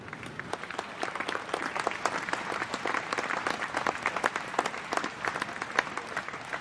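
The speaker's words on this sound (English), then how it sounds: "Let us give our honored guest another big round of applause." Audience applause at a virtual Rotary district conference, dense, even clapping from many hands sustained for several seconds with no voices over it.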